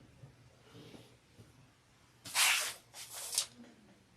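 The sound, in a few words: spraying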